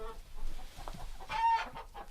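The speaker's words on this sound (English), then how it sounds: "There's one hen outside, and she is just losing her mind." A hen squawks and clucks excitedly in short, agitated bursts, fairly close, with no talking.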